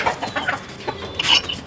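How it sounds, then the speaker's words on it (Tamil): A Siruvidai native chicken rooster and hen cluck in a quick series of short, close calls, moderately loud with no talking. "இந்த சிவப்பு சேவல் அதே மாதிரி இந்த பெட்டை ரெண்டும் வந்து கேரளாவுக்கு போகுதுங்க"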